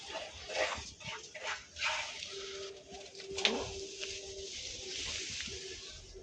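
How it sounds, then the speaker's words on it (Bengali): Highflyer Madrasi pigeons cooing in a few soft, nearby bursts, with a short whistle-like tone and light background noise between calls. "দেখুন বন্ধুরা পায়রা, দেখুন"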